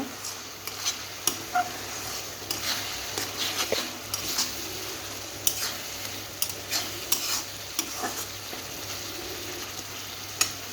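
Spice masala for tomato chicken curry fries and gets stirred in a pan, a steady close sizzle broken by frequent irregular scraping and clicking strokes of the spoon against the pan, with no speech.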